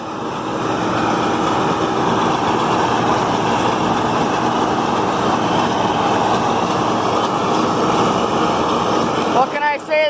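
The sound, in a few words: tractor engine running while baling hay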